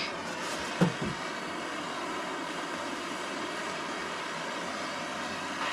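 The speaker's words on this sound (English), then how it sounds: "So I have my propane torch." Propane torch roaring steadily as it heats a Sawzall blade, a constant broadband hiss with a brief click near the start.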